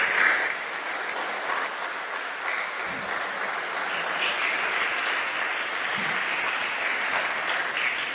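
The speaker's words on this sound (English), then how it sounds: "Let's clap for Mr. Chris." An audience claps for Mr. Chris at an event's opening remarks. The applause is dense and steady, holds at an even level for the whole stretch, and has no talk over it.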